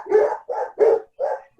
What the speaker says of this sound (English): There's somebody with a barking dog, but not me.